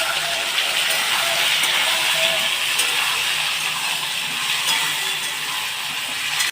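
Eggplant, potato and onion frying together in a pan for a mixed greens stir-fry, a loud, close, continuous hissing sizzle that holds steady throughout with no one talking.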